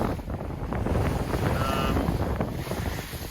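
Wind from squalls off the land buffets a sailboat sailing toward Lakes Entrance, Australia, a loud, steady roar of gusting air and rushing water over the microphone with no break.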